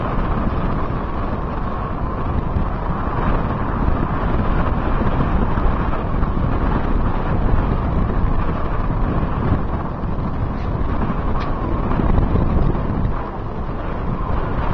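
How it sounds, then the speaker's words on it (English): Strong wind blows steadily across the open ice of a frozen Wyoming reservoir during an ice fishing outing, a dense continuous roar buffeting the microphone with gusting surges and no talk. "Wind, Wyoming."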